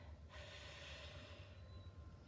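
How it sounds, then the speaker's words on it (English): A single deep breath drawn in slowly through the nose, close and soft, lasting about two seconds over faint background hum. "Breathe in and breathe out."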